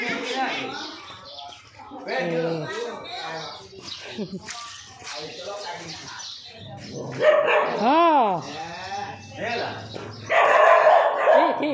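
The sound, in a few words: dog barking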